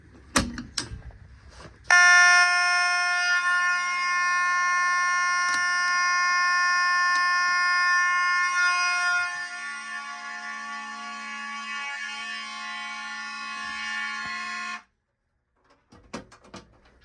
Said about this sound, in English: let's go ahead and activate another alarm